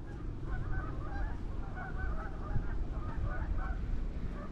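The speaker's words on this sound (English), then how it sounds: "I look at the birds chilling over there" Geese honk repeatedly near a covered bridge at Hartland, New Brunswick in autumn, a loose chorus of overlapping calls at moderate distance over steady low background rumble.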